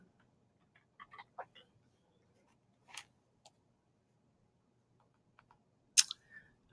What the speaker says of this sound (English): we're going to go ahead and type in our last name